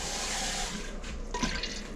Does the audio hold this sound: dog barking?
no